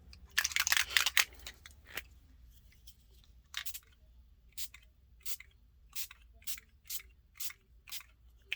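Short bursts of mica spray paint misted onto a gelli print in a crafting session, with a busier rush of spraying at first, then a string of separate, evenly spaced short hisses, close and fairly quiet.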